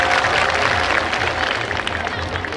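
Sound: audience applause at a ceremony

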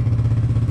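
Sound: engine idling roughly

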